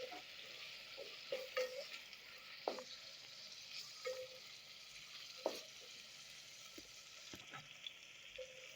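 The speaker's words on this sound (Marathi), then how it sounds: "व्यवस्थित असे परतून घेणार आहे आपण टोमॅटो पण" Tomatoes sauté quietly in a pan, giving a faint, soft sizzle broken by a spoon stirring and scraping the pan in irregular taps, close by, with no talking.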